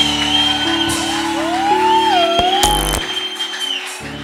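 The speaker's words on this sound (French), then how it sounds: "Pousse des cris de joie à l'honneur du Seigneur." A worship congregation shouts and whoops with joy in praise, loud rising and falling cries over steady music-like tones, with one brief louder burst near the end.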